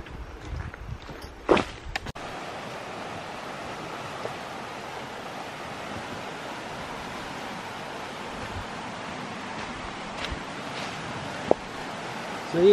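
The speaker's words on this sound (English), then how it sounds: "You can hear the creek now." A fast-flowing creek in a tropical North Queensland state forest gives a steady broadband rush of water, with a few footsteps and knocks near the start and occasional faint clicks.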